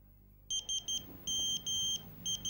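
A phone gives a text-message alert: a series of short, high electronic beeps in quick bursts, clear and close over a quiet room.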